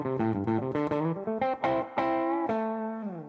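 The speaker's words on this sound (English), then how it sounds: "it's got almost more like a cocked wah sound than that really muffled, dark underwater sound" Stratocaster electric guitar with the tone knob rolled fully off plays a quick run of picked notes, then a few sustained chords, with a slightly dark, nasal tone and no talking.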